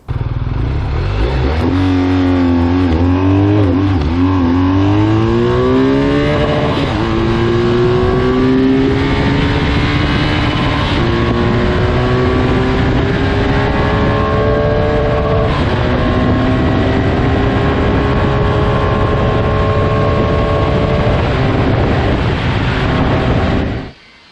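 A Ducati motorcycle engine revs repeatedly through a loud, deep aftermarket exhaust, rising and falling in pitch, close and sustained throughout.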